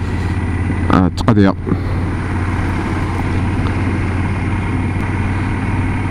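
A motorcycle engine idles steadily with a low, even rumble throughout, while someone speaks French briefly over it near the start.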